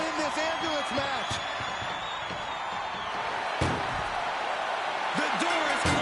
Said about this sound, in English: The door is closed.